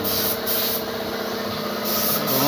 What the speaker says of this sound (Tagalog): Kung nga siya gumamit ng spray gun guys